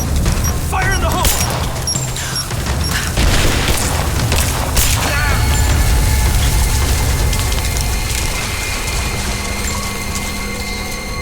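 An explosive detonates in Rise of the Tomb Raider with a loud, heavy boom, followed by splintering wood, scattered crashing debris and a long rumbling tail, all close and dense, with brief voices nearby.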